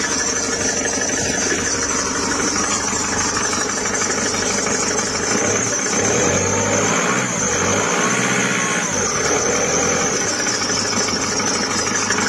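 A Kia Carnival diesel engine running low on oil idles steadily and loudly throughout, with a dense mechanical clatter and no pauses.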